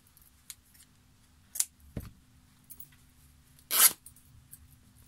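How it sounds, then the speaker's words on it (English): Painted fabric is ripped in half, giving a sharp tear near the middle and a longer, louder rip near the end, with faint handling clicks in a quiet room. "So I'm just going to halve it and rip it, straighten it out of it"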